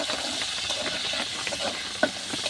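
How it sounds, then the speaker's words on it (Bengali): Shrimp frying in a pan give a continuous close hiss and sizzle, with a few soft scraping touches and one brief sharp clink near the end, no talking. "এই যে এই জায়গায় দিয়া দিচ্ছি চিংড়ি মাছ ভাজি করার জন্য।"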